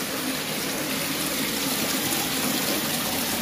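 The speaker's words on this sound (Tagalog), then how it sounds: "Ito niyo yung lakas ng agos, no?" Strong floodwater from a high tide in Taliptip, Bulakan, Bulacan roars steadily throughout, a dense, unbroken wash of churning current with no voices over it.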